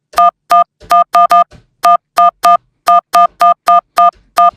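A telephone keypad sends a rapid run of DTMF dialing tones for an international call: about fifteen clean, evenly loud beeps in uneven quick groupings, with silence between them and no talking.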